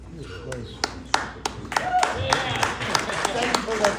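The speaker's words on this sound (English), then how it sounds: "Thank you for that round of applause." An audience applauds a speaker at a Maryland political event with scattered, uneven claps close by, while voices talk over them.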